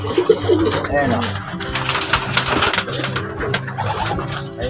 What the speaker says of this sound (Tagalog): Ayan yung mga ibon o.